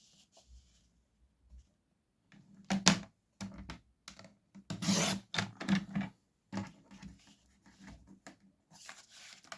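Scissors or a trimmer cut through an acetate sheet for a Hunkydory card, giving close, crisp bursts of snipping and rasping with quiet gaps between them.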